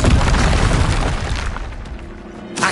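A Confringo blasting spell goes off in the video game Hogwarts Legacy: a loud, heavy booming explosion with rumbling low end, decaying over a couple of seconds before a second sharp burst at the end; no talking.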